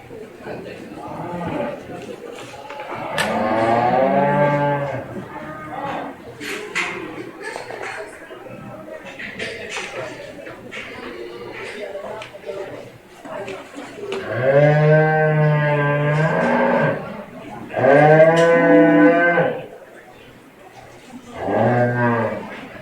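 Cattle moo at a 4-H cow-calf beef show, several long, loud bellows rising and falling over about twenty seconds, while announcers talk over a PA.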